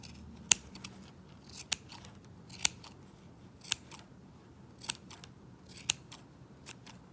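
Scissors snipping yarn while trimming a pom pom: sharp, faint, close cuts spaced about one second apart, seven in total, over a quiet background.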